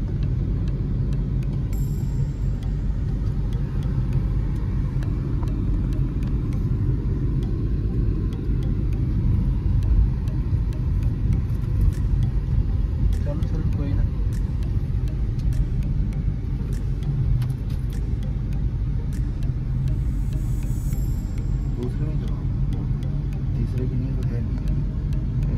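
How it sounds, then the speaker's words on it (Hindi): A car engine hums steadily at low, constant revs during a driving lesson, a continuous moderate rumble throughout with a few brief clicks and faint voices in the background. "जब तक गाड़ी 2000 RPM ना पहुंचती, गियर ना, गियर मत बदलो"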